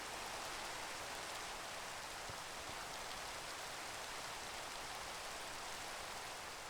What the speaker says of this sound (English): Because I want the rain to stop.